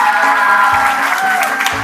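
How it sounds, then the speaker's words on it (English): A school assembly audience applauds a prize winner, with light, continuous clapping heard at moderate loudness over a sustained tone. "Let's have a round of applause."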